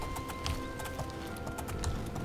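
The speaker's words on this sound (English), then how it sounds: "It's been a while since I've actually rode on a horse." Horse hooves clip-clop steadily at a riding pace in the video game Oblivion, a continuous rhythmic patter of hoofbeats over a low ambient game background, with no talking.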